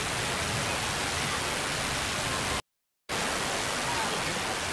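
Panas Falls roars as a continuous, loud broadband rush of falling water close by, with a brief complete dropout in the middle.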